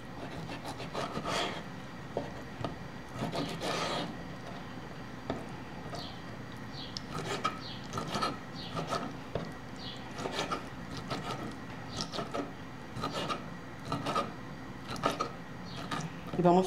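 A knife cuts fish into small, even cubes for ceviche, giving a steady series of close, crisp chopping strokes against a cutting board, spaced irregularly over the whole stretch.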